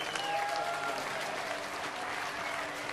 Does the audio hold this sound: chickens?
no